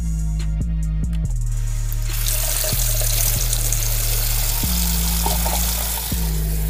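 Hot water runs steadily from a tap, a continuous hiss of flow that fills the sound without pause, with a low humming tone running underneath.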